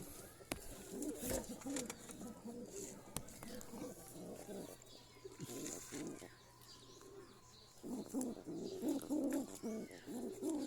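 Pigeons coo softly in a low, throaty rhythm, with wing flaps and scattered clatter around them and a person speaking quietly now and then.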